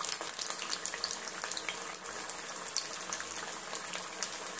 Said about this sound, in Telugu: నూనెలోకి వదిలేనాము. చూడండి ఉడుకుతాయి.